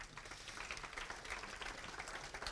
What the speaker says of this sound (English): So he really deserves some kind of applause